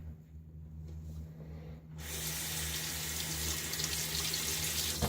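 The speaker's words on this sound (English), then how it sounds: "Rinse this easily from the razor." Running tap water pours close and steady into a sink while a Gillette Fat Boy safety razor is rinsed under it, beginning as a soft trickle and then gushing more fully, with no talk.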